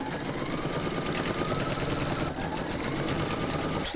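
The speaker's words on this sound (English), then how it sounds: "You're now going to stitch round number four, and that's going to stitch down the fabric for the back of the head" Embroidery machine stitching down fabric in the hoop for an in-the-hoop dog pouch, a steady rapid mechanical needle chatter running continuously and close, with no voices.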